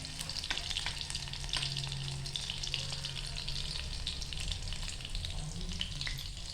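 Garlic and onion frying in hot oil for a prawn dish, a dense continuous sizzle with crackling pops and occasional stirring, fairly close and unbroken throughout.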